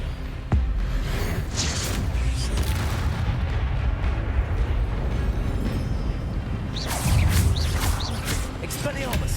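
Repeated spell blasts in the Hogwarts Legacy game, a sharp onset followed by a dense, continuous rumble of booming magic and combat effects, with a second louder burst near the end.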